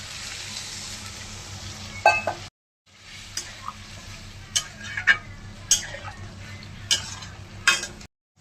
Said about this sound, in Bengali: ভালো করে কষিয়ে নিয়েছি, এখন জল দিয়ে দিচ্ছি